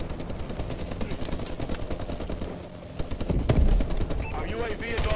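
Rapid automatic gunfire in the video game Call of Duty: Advanced Warfare, dense bursts of shots running throughout over game effects, with a louder blast midway and a player talking over it.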